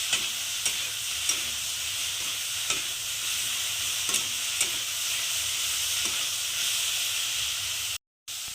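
Pepper and oregano being stirred into pizza paratha filling in a pan, a steady sizzling hiss with soft periodic scrapes of the spoon against the pan, close and continuous with no talking.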